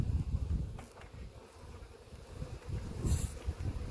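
Honey bees buzzing around an opened bee package while they crawl out the top, a soft continuous hum mixed with rustling and light wind noise close to the microphone.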